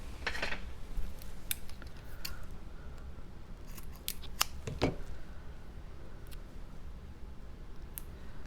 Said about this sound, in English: And I'm going to need to cut it.